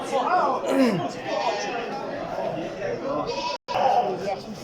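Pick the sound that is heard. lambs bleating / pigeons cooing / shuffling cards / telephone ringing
lambs bleating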